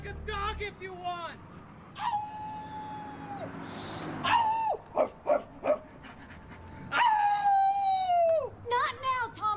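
A man imitates a dog with whimpers, yips, howls and a string of short barks in a 1989 Tales from the Crypt episode, loud and close, with a few vocal outbursts between.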